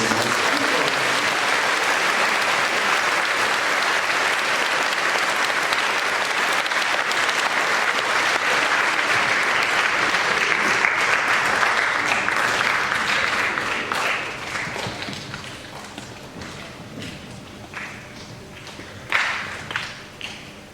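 A school assembly's students clap for their student coaches, a loud, dense round of applause filling the hall for about fourteen seconds, then thinning into scattered claps and a few stray taps.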